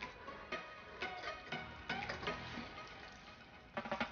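A spoon scrapes and clicks rhythmically through thick chicken pot pie filling as frozen vegetables are stirred in, soft and close with a faint moist bubbling beneath.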